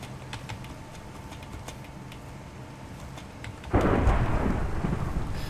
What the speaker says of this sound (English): that lightning was closer than I think it should have been